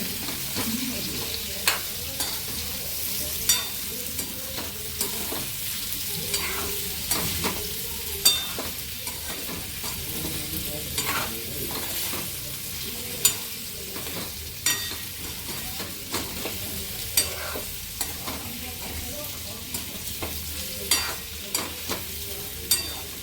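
Raw mango is stirred into a vegetable curry in a pan, where a low simmering sizzle runs under repeated metal spoon scrapes and knocks spaced a second or two apart, close by and unaccompanied by talk.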